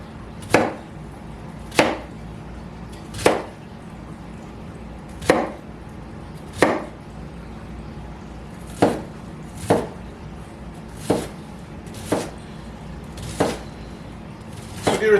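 Onions are chopped with a kitchen knife on a cutting board, about a dozen crisp, evenly spaced knife strikes close by over quiet room tone.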